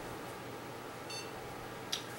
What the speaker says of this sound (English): We get a single beep indicating post is started